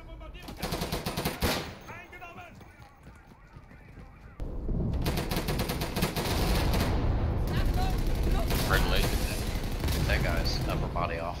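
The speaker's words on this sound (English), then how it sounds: "Machine gun. The MG." MG machine gun fire in Day of Infamy, rattling in sustained, dense bursts that dominate the second half over game ambience, with a quieter stretch of scattered shots and talk before.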